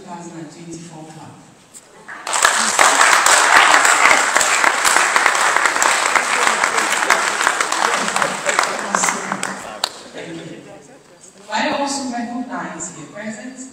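Loud, sustained applause fills a university lecture hall at an inaugural lecture, breaking out after a voice and running about eight seconds before talk resumes over fading clapping.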